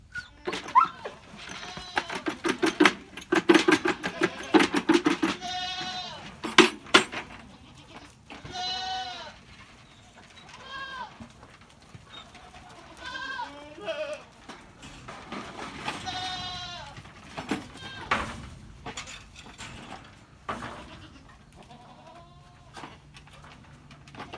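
A whole herd of goats calls repeatedly on a farm, with overlapping bleats from several animals near and far in a busy, continuous chorus, with no talking.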